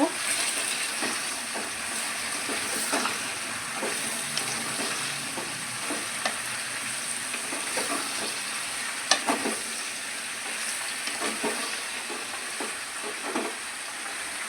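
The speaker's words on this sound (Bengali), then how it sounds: "দু চামচ চিলি সস দিয়ে ভালো করে এটাকে নেড়ে নেব" Prawns in a frying pan are stirred with soy sauce and chili sauce, giving a steady sizzle and hiss with repeated scraping strokes of a utensil against the pan, close and moderately loud throughout.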